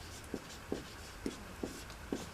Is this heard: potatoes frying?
no